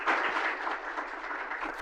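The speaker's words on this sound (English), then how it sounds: "Can we please give them a round of applause?" An audience at a round-table event claps in a short burst of applause, dense and steady, then tapering slightly toward the end.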